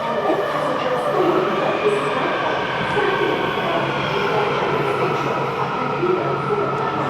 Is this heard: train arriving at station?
yes